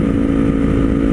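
A Kawasaki Z400 motorcycle cruising on a highway gives a steady, loud engine drone with wind roar, holding an even pitch throughout without any voices.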